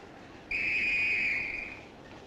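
A steam-era British passenger train in 1969 gives a single sustained, piercing whistle blast of about a second and a half as it departs, fading out over a quiet background.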